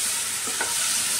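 A spice paste loosened with a few spoonfuls of water fries in a pan for a cucumber, potato and prawn curry, giving a steady close hiss with a couple of soft stirring scrapes in the middle and no voices.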